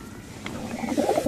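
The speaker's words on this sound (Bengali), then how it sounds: "কিছু কবুতর আছে," Pigeons coo softly in a small home loft, a few low, rounded calls rising near the end with no voices present.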